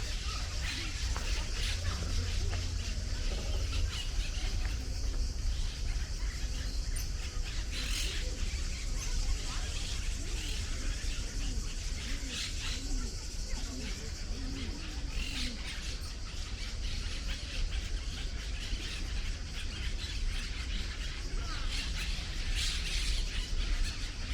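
Steady, dense bird chirping and calling from many birds at once, with cooing mixed in, continuing throughout at moderate loudness over a low background rumble.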